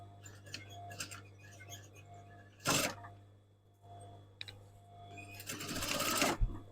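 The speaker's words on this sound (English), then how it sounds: "I'm going to stitch down the centre of the elastic." Sewing machine stitching down the centre of elastic for a pair of tasselled shorts, running in two loud bursts separated by quieter handling noises and a low steady hum.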